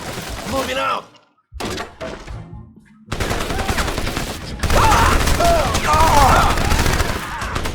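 Heavy gunfire and thudding explosions from the video game Crysis pour out almost nonstop, growing denser and louder toward the end, with a voice talking over the chaos.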